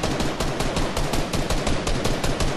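Rapid automatic gunfire from a Fortnite match, loud and close, bursts of shots rattling continuously through the whole stretch with no talk over it.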